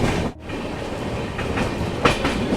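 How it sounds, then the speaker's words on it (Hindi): The Jansewa Express passenger train runs through a small station without stopping, a loud, steady rumble of carriages with rhythmic wheel clatter heard close up from on board. "ये किसी सरसी स्टेशन को अपनी ये जनसेवा एक्सप्रेस स्किप कर रही है।"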